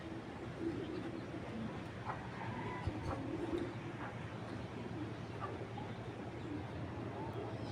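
Soft cooing from foreign racing pigeons kept for sale, faint and intermittent beneath a constant broad background rumble.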